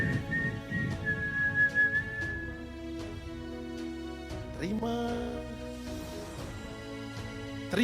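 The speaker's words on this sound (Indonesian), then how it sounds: "Hanya bersiul. Siapa yang suka bersiul di rumah?" Someone whistles a sustained, high tune over soft sustained background tones, with no talking.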